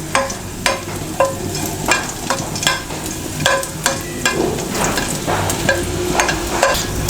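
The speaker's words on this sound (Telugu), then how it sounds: "కొద్దిగా వేగిన వెల్లుల్లిపాయలు." Crushed garlic cloves frying in oil for a Telugu cabbage-coconut curry, a steady close sizzle broken by regular scraping strokes of a spoon stirring the pan roughly every half second.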